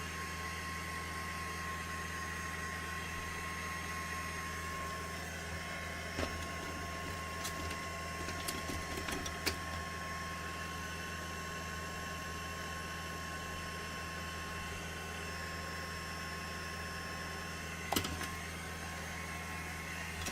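A heat embossing tool held over a watercolour Christmas card to dry ink, giving a steady, even electric blower hum with a few faint clicks and knocks, no talking.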